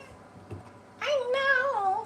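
A pet cat meows indoors at home, a clear, close drawn-out meow lasting about a second after a brief faint sound, with no talking over it.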